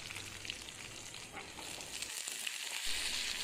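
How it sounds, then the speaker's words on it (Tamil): Tomatoes and green chilies sautéing in a pan for a green gram curry, a steady broadband sizzle running throughout with a brief dip in the low rumble near the end, no voices present. "இப்போ தக்காளியும் சேர்த்து வதக்கலாம்"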